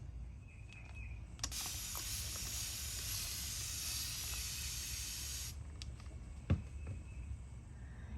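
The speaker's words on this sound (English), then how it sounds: "So I am going to go ahead and give them a little spritz." A spray bottle spritzes water onto monarch butterfly eggs in a garden, one long steady hiss lasting about four seconds, close and fairly quiet, followed by faint ambient quiet and a small tap.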